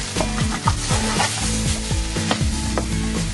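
Garlic and onions frying in a pan as the base of a meat sauce, giving a steady, close sizzle with repeated scraping strokes of stirring throughout.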